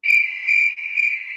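A cricket chirps loud and close in a steady, continuous trill with slight pulsing, alone and without any talk.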